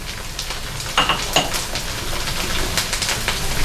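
Sliced green capsicum and red bell pepper sizzle in a hot pan with beef for restaurant-style chili beef, a steady close frying hiss broken by a couple of stirring clinks.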